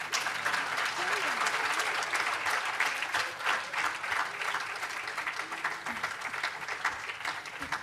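An audience at a 2023 piano concert breaks into sustained applause, a busy, even wash of many hands clapping at moderate volume that carries on throughout with slight swells.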